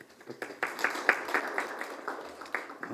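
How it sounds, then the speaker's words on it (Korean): A modest audience claps in encouragement at a forum on community education, scattered, uneven handclaps that swell and fade quietly in the room. "다시 한번 격려 박수."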